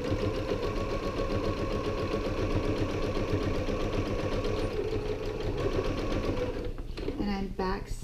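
A sewing machine runs steadily, stitching a tote bag seam with a 3/8 inch allowance and back stitching to reinforce it, a fast continuous mechanical whir that stops near the end, followed by brief speech.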